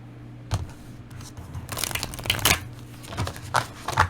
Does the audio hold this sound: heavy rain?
no